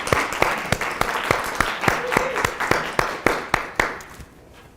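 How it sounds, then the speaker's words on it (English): Audience applause after a call to thank program supporters at a design talk event: a steady run of sparse, distinct claps over roughly four seconds, then fading to room quiet. "I wonder if we can give all of them a round of applause for supporting"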